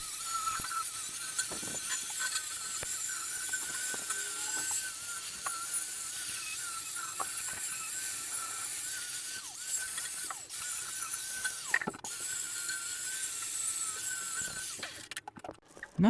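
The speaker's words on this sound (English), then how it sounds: "I could clean the surfaces with a wire brush" A wire brush, likely power-driven, scours metal parts of a homemade motorbike stand with a continuous high buzzing whine, fairly faint and steady, with a few brief interruptions near the end.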